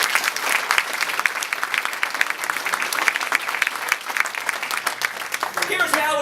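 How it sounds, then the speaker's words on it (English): Sustained applause from an audience at the 2017 ServiceIQ New Zealand Museum Awards ceremony, dense steady clapping throughout, tapering slightly near the end. "have a round of applause for all of those judges"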